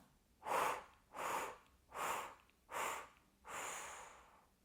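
Five slow, deep breaths from a pregnant woman doing a breathing exercise while pressing her back into a pillow, each inhale or exhale a distinct airy swell, close and quiet in a still room.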